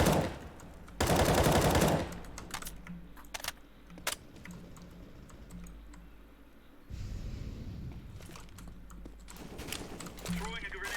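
Video game gunfire crackles in rapid bursts, with a dense loud volley early on and scattered sharp shots and later sustained fire, while players talk over the action.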